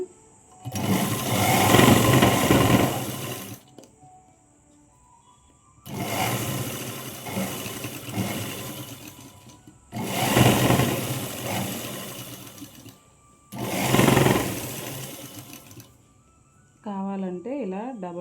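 A sewing machine stitches a Punjabi dress in four bursts of fast whirring, each a few seconds long with quiet pauses between, close and loud, with a voice talking during the gaps.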